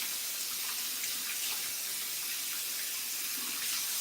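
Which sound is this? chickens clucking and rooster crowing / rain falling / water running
water running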